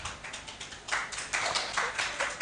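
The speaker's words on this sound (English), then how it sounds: "we didn't ask you to clap" An audience applauds at a film industry panel session: a soft, steady patter of many hands clapping at moderate distance, swelling slightly partway through.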